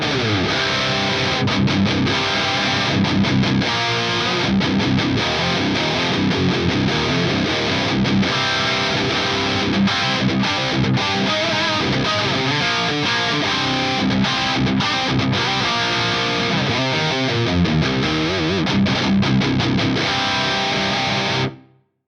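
A heavily distorted, high-gain electric guitar amp plays loud, dense riffs with a fizzy, sizzling top end, steady throughout before cutting off abruptly.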